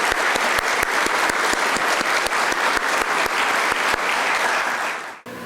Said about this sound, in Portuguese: Mais uma salva de palmas para a Celisa.